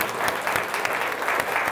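An audience at a book premiere in a bookshop café in Sønderborg applauds, a loud, close, steady round of clapping with a few sharper individual claps standing out.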